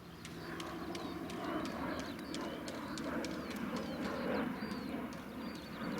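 Rhythmic clip-clop of horse hooves at a steady trot, fairly close, over a constant outdoor background.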